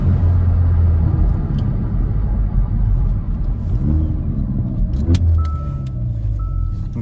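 Hyundai i30N hot hatch, 275 hp, accelerating on the road, a close steady engine rumble rising slightly with throttle and a couple of brief clicks near the end, no talking.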